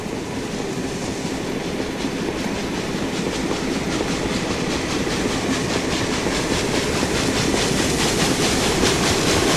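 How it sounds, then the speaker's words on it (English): Steam-driven pistons of a steam locomotive beat rhythmically as it chugs continuously with rattling wheels, loud and steady throughout without pause. "So this is the piston, the steam-driven pistons added to that sound."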